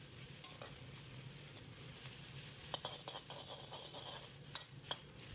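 Water bamboo stir-fried over high heat gives a low, constant sizzle, broken by sharp scraping clicks and taps of a spatula tossing it around the wok.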